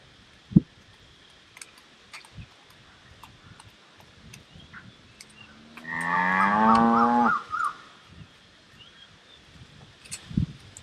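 One long, loud moo from a cow lasts a couple of seconds and stands out from a quiet outdoor background broken by a few scattered knocks and rustles.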